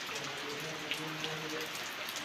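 Steady rain falling at night during the Navratri season, a dense, even hiss of drops with a few louder splashes standing out, fairly quiet and unbroken for the whole stretch.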